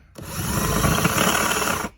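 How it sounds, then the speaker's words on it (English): A power drill bores into the back of the rivets on a brake pad in a workshop, spinning up quickly and holding a steady, close whine-and-grind for nearly two seconds before stopping. "is you're going to slightly drill the backside of the rivets here."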